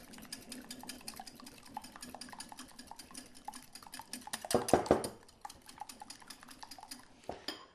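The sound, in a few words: mixing egg and sugar in a bowl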